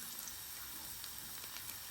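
Garlic frying in olive oil in a large pan: a faint, steady sizzle with light crackling pops, quiet and continuous with no voices.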